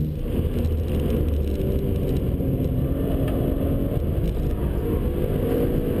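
A 2012 BMW 1 Series M Coupe holds third gear on a fast track lap, its engine a loud, sustained, close drone with steady road and wind roar.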